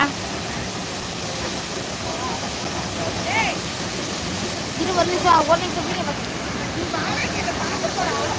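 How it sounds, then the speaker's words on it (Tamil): Athirappilly waterfall in Kerala pours with a dense, constant roar of falling water that fills the whole scene, with faint voices murmuring beneath it. "அருவி கொட்டுது தண்ணி கொஞ்சம் கம்மியாக தான் வருது இந்த தடவை"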